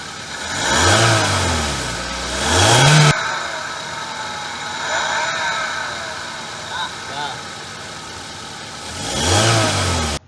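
A car engine is revved up to 4000 RPM and recorded close on an iPhone: a rising roar that peaks and drops at the start, a quieter idling stretch with small blips, then another climbing rev at the end.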